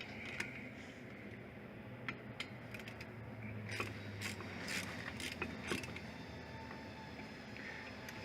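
Ratcheting clicks sound as brake caliper bolts are tightened on a 2001-2007 Ford Escape, sparse and fairly faint against a steady background hum, with a few scattered metallic taps.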